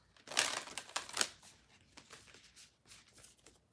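A deck of cards being shuffled, two quick riffling bursts followed by softer rustling and taps, close and fairly quiet.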